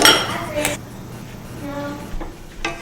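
Peaches being mixed with flour and cinnamon in a bowl, a few close clinks and knocks of a utensil against the dish with quiet pauses between them.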